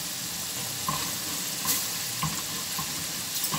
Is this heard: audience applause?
no